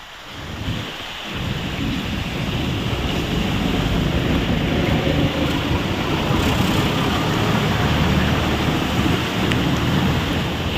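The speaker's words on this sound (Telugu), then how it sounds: "డ్రైనేజీ నీటితో పాటు వర్షం నీరు రోడ్లపై ప్రవహిస్తోంది" Heavy rain and floodwater rushing over submerged roads in Vijayawada, a dense, continuous roar of water that stays loud and steady throughout.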